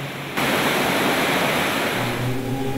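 A natural mountain waterfall along the Kailash Mansarovar pilgrimage route roars in a loud, steady, dense rush of falling water that starts abruptly and holds close and constant, with a faint tonal hum entering near the end.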